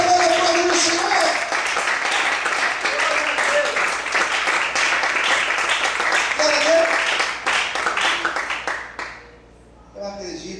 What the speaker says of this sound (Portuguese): Será que você pode aplaudir o Senhor?